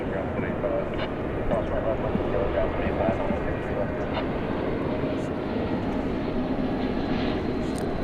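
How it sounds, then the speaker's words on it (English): A Spirit Airlines Airbus A320 arriving from Charlotte at DFW Airport gives off a steady, fairly faint engine roar with broadband rushing noise throughout, without strong rises or falls. "A320 coming in from Charlotte, North Carolina"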